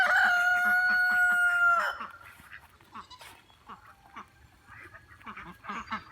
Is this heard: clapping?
no